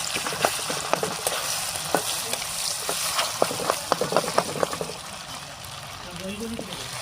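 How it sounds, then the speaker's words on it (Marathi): Goat brain fries in oil with a pinch of turmeric and salt, a crackling sizzle punctuated by sharp spoon taps and stirring scrapes. A voice talks faintly in the background. "मस्तपैकी तेलामध्ये शिजू द्या 2 मिनटं"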